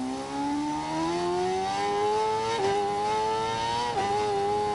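S1000RR sport bike engine in a racing video game, a tonal whine climbing steadily in pitch through the gears with two brief dips at shifts, loud and alone.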